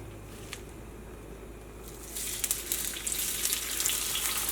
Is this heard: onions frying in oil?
yes